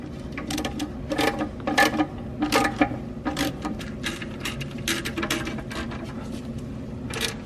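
Bolts coated with thread locker being run into a flywheel during a C4 Corvette six-speed swap, heard as close, rapid ratcheting bursts in repeated clusters, with no talking.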